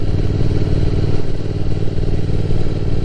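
Motorcycle engine heard while riding a road in Japan, a steady close, loud mid-revving drone with rough harmonic pulsing and wind, held continuously without talk.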